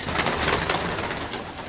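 Pigeons coo softly amid continuous outdoor ambience, a steady low murmur of birds with no talking.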